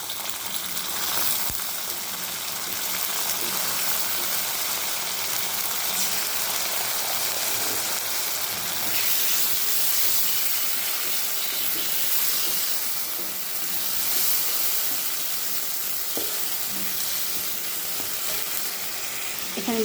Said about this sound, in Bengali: আমি এবার পেস্ট দিয়ে দিচ্ছি,